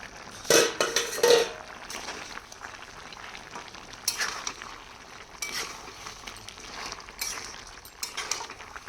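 Mutton curry is stirred in a pot with a spoon, giving a few clinking scrapes early on and then softer intermittent scraping and clatter over a low background.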